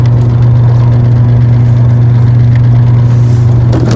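A new small outboard-style boat engine drones steadily while trolling for trout, a loud, close, even low hum with no voices over it.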